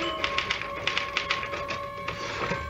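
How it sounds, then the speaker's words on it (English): Typewriter keys struck in a quick irregular run of sharp clacks against a steady background hum, an old radio-drama sound effect with no one speaking. "Can I use the typewriter for a moment?"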